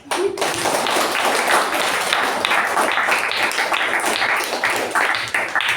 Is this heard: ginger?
no